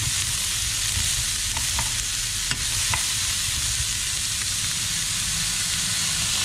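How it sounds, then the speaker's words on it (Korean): Celery and scallions stir-fried in a pan over high heat, a loud, steady, hissing sizzle with occasional clicks of a utensil against the pan, continuous throughout with no talk. "센 불에서 빨리 볶아내야 합니다"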